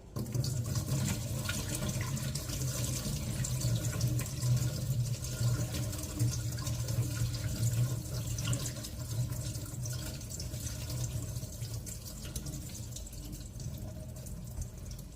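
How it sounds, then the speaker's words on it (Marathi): Soaked wheat squeezed by hand to wring out its water for traditional Khandeshi wheat chik gives a continuous close trickle and dripping of water, steady throughout, with no talk. "आता आपण याच्यातलं सर्व पाणी हाताने निथळून घेऊया"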